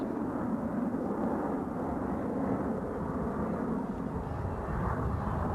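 Four Diamond formation military jets loop overhead at an air show, a steady, loud roar of jet engines that holds even and broadband throughout without a break.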